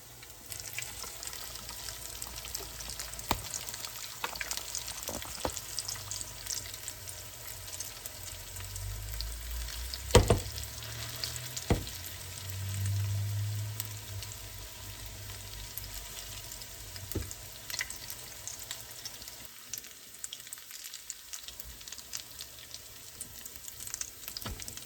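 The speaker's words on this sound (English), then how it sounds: "I'm just gonna fry these up until they get brown on both sides" Food frying in hot oil in a pan, a faint steady sizzle with scattered pops and clinks, one louder clatter partway through, and no voices.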